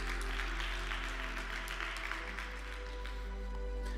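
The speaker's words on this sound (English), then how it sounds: "Let's also give him a round of applause." Audience applause for an art finalist at the ADSW Summit 2025, a steady wash of many hands clapping in a large hall over a constant low hum, fairly faint and even throughout.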